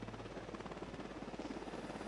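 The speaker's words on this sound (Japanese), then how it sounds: "あのヘリいる間俺出れねえんだけど" A helicopter in the video game Ghost Recon Wildlands makes a continuous rotor chop that fills the whole moment with a dense, steady, pulsing drone, as if the aircraft is hovering close overhead.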